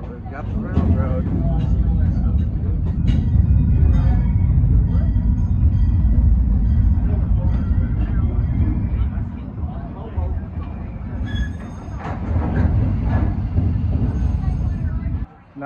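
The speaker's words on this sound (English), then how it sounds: "I don't know that I've ever ridden the train at night like this." Amusement park train ride at Cedar Point at night, a steady low rumble of wheels and running gear with occasional higher squeals and clanks, loud and continuous under someone talking.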